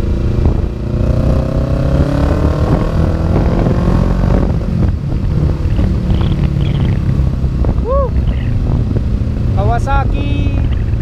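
A Kawasaki 650cc big bike being ridden, its engine purring steadily up close under heavy wind buffeting, with a few faint chirps near the end and no speech.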